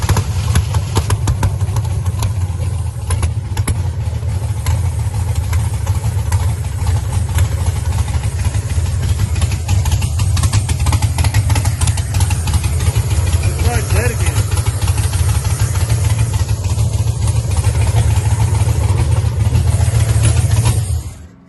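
Car engine with dead cylinders running steadily with the gas pedal pressed lightly, a loud, rough low drone that holds constant throughout with a clattery edge, with faint talk mixed in.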